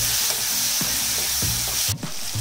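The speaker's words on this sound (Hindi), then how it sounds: "और मसाले को जो है भूनिएगा अच्छे से, लेकिन उसे जलने मत दीजिएगा" Spices for a yam curry frying in a pan: a loud, dense sizzle runs throughout, with a few low scraping stirs near the end.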